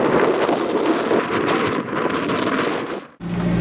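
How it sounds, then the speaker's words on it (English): Wind gusting over a sailboat at anchor on the Mediterranean coast of France, a loud continuous rush with buffeting on the microphone and a brief dropout near the end. "Wind is coming from overland, so no worries."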